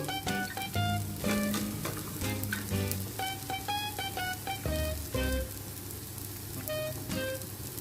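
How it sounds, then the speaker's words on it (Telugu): Onion pesarattu dosa, an Andhra-style moong dal crepe, sizzles in oil over a low flame: a steady close frying crackle runs throughout, with some clinks and background sounds over it. "ఆయిల్ వేసుకోవాలి పైన నిదానంగా సిమ్లో పెట్టి కాల్చుకోవాలి"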